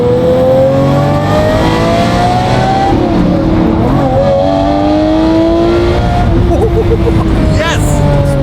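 Manual Lamborghini Murcielago engine revving loudly nearby, with pitch climbing and dropping through several rises, while people cheer and talk excitedly over it.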